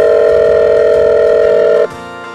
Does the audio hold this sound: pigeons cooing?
no